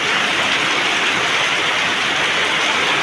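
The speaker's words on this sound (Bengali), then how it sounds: "এখনো পর্যন্ত দেখো তোমরা বৃষ্টি হয়েই যাচ্ছে" Heavy rain falls steadily outside a house kitchen, a loud, dense, unbroken hiss close by that stays even for its whole length. No voices are heard.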